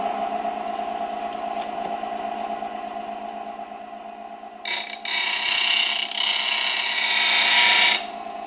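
A powered grinder flattens a tool. A constant motor hum runs throughout, then a loud, harsh grinding rasp starts about halfway through and holds for several seconds before cutting back to the hum.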